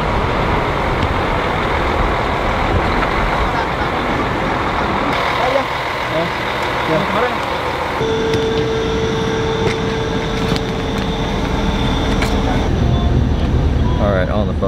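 Riding a bus in Mexico: a steady, loud engine and road rumble fills the whole stretch, with a thin mechanical whine emerging partway through as the cabin noise continues uninterrupted.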